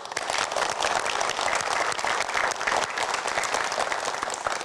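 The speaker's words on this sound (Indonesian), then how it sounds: "Boleh berikan tepuk tangan dong." Studio audience applause for community groups at a youth show, dense continuous clapping from a crowd, loud and unbroken with no talk over it.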